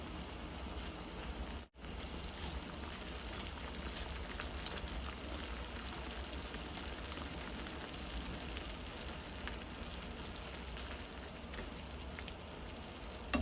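Water at a steady boil in a pan with vermicelli noodles added, a dense continuous bubbling hiss close by with a brief dropout near the start, no voices.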